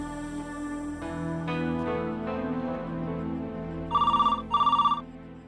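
Telephone rings twice near the end in two short, bright electronic trilling bursts, heard over a steady background music bed with no talk.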